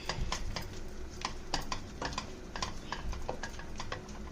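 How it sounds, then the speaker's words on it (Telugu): A spoon stirs tomato into spiced masala in a pan, making a steady run of quick scraping clicks and soft wet squelches over a low sizzle, close and continuous. "కొంచెం టమాటా వేసుకొని కలుపుదాం"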